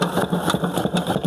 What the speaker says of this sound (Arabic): ويخدم الموتور 24 ساعه على 24 ساعه